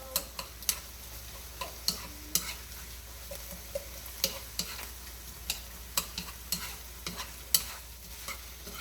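Vegetables and onions being stirred and fried in a pan, with a faint continuous sizzle beneath irregular sharp clinks and scrapes of the utensil against the pan.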